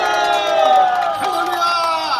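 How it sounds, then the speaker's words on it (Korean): A large outdoor crowd at a Christian rally in Gwanghwamun cheers and whoops loudly in a steady, dense roar, with shouting voices mixed throughout. "이 목사님을 뜨거운 박수로 모시겠습니다."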